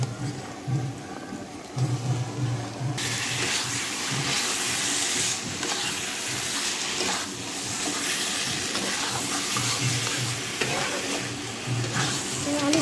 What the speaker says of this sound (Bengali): এখন আলু পটলটা দিয়ে সুন্দর করে কষাই নেব মাত্র।